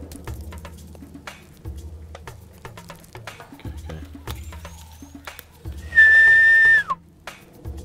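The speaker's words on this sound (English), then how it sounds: "I'm gonna whistle when he gets there" A hunter's loud, sustained whistle meant to stop a kudu bull on an African safari, rising sharply over quieter footsteps and rustling, then ending in a downward slide.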